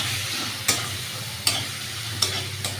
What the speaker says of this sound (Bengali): ওটা ব্যবহার করার পরে আমি আস্তে আস্তে খুন্তি দিয়ে এটাকে ঘেঁটে দিচ্ছি।